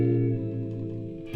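Squier Classic Vibe 60s Jazzmaster electric guitar with its tremolo arm working, a sustained chord wavering in pitch and ringing with effects and reverb, then a fresh strum at the end, no voices.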